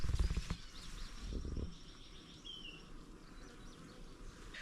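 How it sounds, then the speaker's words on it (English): Bees hum around a large hive on a flower farm, a soft, steady buzzing with a louder burst near the start and occasional faint chirps in the background. "So that is a big hive of bees."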